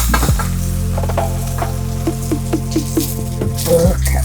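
Salmon fillets sizzle steadily in a hot pan just after being flipped, a loud continuous fry with scattered pops and light clicks of utensils throughout.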